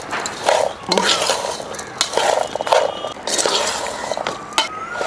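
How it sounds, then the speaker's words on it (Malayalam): A spoon scrapes and stirs Indian gooseberry pickle in a pan, with intermittent scraping and clattering close by, mixed with some background noise. "ഇനി ഇതെല്ലാം കൂടെ നന്നായിട്ടൊന്ന് ഇളക്കി കൊടുക്കുന്നുണ്ട്"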